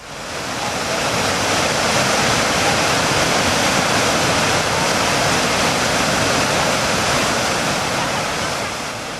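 Water rushing at its mountain source, a loud, dense, continuous roar like a waterfall or fast stream that holds steady throughout with no pauses.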